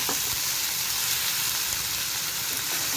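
Tomatoes fry in a pan for bagara rice, giving a steady, dense sizzle that hisses without pause throughout, with no talking.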